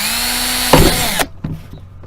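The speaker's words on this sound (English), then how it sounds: "You know what drilling holes looks like." Power drill boring holes in a plastic bucket: a steady loud whine that briefly bites in with a grinding burst, then cuts off abruptly, followed by a couple of faint clicks and handling knocks.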